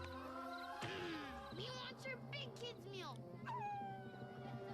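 A dog howls and whimpers in rising, wavering tones, with higher yips, close by and fairly loud throughout.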